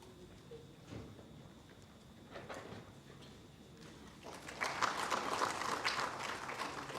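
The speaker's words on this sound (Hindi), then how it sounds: "तालियों के साथ स्वागत करें मंत्री जी का।" Audience applause welcoming a government minister at an inauguration ceremony, quiet at first with scattered claps, then swelling into fuller clapping over the last few seconds.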